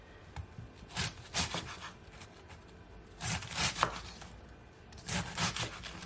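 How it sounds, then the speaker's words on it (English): A knife cuts through a cabbage in a home kitchen, giving three bursts of crisp, crunchy slicing strokes against a board, close and fairly quiet, with short pauses between them and no one talking. "So here I have one cabbage that I'm cutting."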